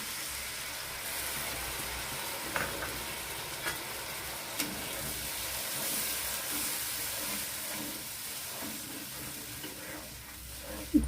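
A little water poured onto frying masala for a paneer curry sets off a steady broad sizzle and steamy hiss that carries on for several seconds, with a few faint clicks of stirring.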